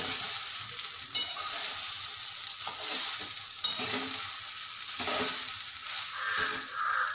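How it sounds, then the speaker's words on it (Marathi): Sabudana khichdi, a Nashik-style dish of tapioca pearls, sautéed and stirred in a pan, giving a steady close sizzle with scraping spoon strokes throughout and no voices. "तर परत याला 2 मिनिटं मी परतवून घेते।"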